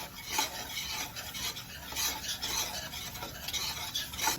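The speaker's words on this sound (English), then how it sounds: "we're gonna keep stirring it. Because we don't want no lumps in it" Continuous scraping and stirring of flour into frying grease in a pan, with a soft sizzle underneath, a rhythmic rasping at close range.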